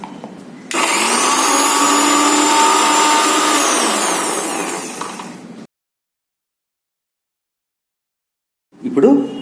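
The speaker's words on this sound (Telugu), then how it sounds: "పచ్చిమిరపకాయలు, అల్లం కూడా మిక్సీ వేసేసేయండి." A kitchen mixer grinder whirs loudly and steadily for about five seconds while grinding green chillies and ginger, then stops abruptly; after a short silence it starts up again briefly.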